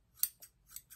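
Scissors snip directly into the hair of a mannequin head being thinned out, four short, sharp, close cuts in a quiet room.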